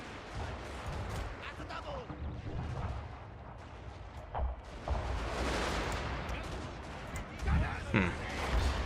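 Musket volleys and artillery fire from a Total War: Fall of the Samurai battle at a bridge, a steady crackle of distant gunfire with heavier booms rising around the middle and end, under game ambience.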